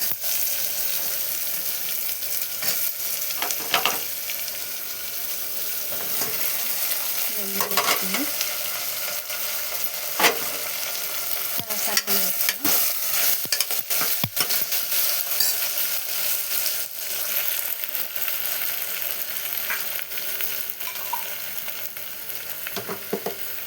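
Potatoes added to tomatoes frying in a pan, a steady sizzle with scraping and stirring knocks from a spoon scattered throughout, fairly quiet and continuous.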